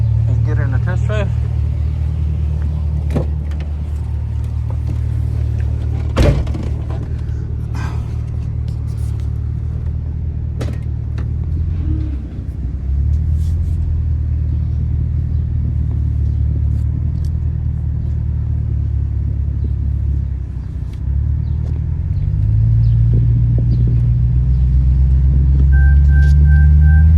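A 2006 Chevrolet Silverado truck engine running on a test drive, a steady loud low rumble with occasional brief clicks and knocks, swelling toward the end as it accelerates.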